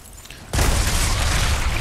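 A single loud gunshot blast from the video game Resident Evil 4 (2023) hits abruptly after a quiet moment and rings out with a dense, sustained boom, close and loud.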